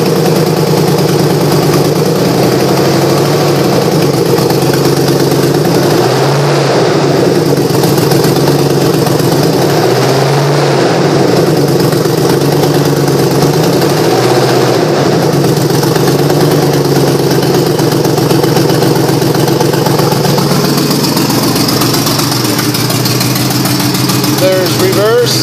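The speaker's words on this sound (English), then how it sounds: "Does have an exhaust leak, so it will be loud." Loud, steady idle of a 2004 Hummer H2 engine with an exhaust manifold leak, a continuous rough rumble with slight periodic pulsing throughout, with faint speech-like sound mixed in.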